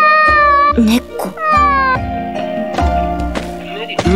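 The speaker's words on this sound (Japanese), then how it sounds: "猫。" A cat meows repeatedly in a video game, a run of clear, loud mews spread across the moment over steady game music.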